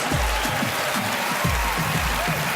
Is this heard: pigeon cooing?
no